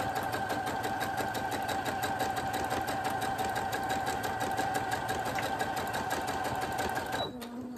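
A sewing machine stitches fabric in a fast, even mechanical chatter close by, then stops abruptly near the end.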